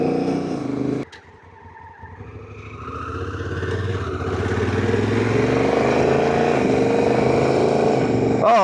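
A Honda Africa Twin motorcycle engine rises steadily in pitch and loudness as it accelerates through a gear change, close and continuous, with a brief quieter dip near the start.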